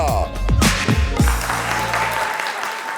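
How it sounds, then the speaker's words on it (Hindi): Studio audience at a Pakistani TV talk show clapping to welcome cricket figure Ramiz Raja as a guest, steady dense applause heard close and loud, with a few sharp percussive hits at the start before it fades out. "ख़वातीनो हज़रात, भरपूर तालियों में इस्तकबाल कीजिएगा।"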